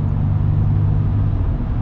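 A 2023 Ram 1500 Laramie Night Edition pickup with the Eco-Diesel engine pulls under partial throttle, giving a steady, loud low-pitched diesel drone and rumble with no talking over it.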